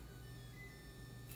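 A clothes dryer runs as a steady, low continuous hum with faint whining tones, droning evenly in the background of a quiet room with no talk.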